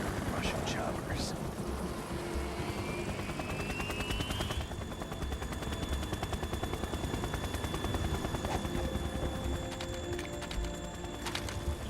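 Russian Kasatka helicopters in the video game Metal Gear Solid 2 make a loud, dense, continuous rotor roar with a steady chopping pulse, a rising whine and sharp percussive bursts layered through it.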